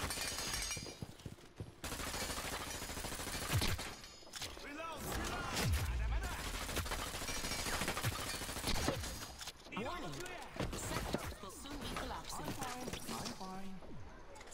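Rapid gunfire in the shooter video game Hyper Scape comes in repeated bursts and crackling volleys, with game effects and frequent loud talking over much of the action.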